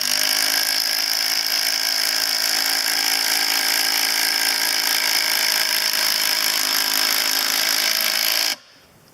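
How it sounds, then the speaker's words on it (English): A 12-volt DeWalt impact driver drives a fastener with a steady, loud, whirring hammer for about eight seconds, then cuts off sharply into near silence. "So first of all we'll do it with the 12 volt DeWalt impact driver."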